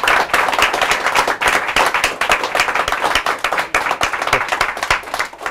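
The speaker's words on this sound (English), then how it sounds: "let's give another round of applause for Mike Huckaby" An audience gives a loud round of applause for Mike Huckaby at a Dubspot event, dense hand claps rattling continuously and close for several seconds, with no speech over them.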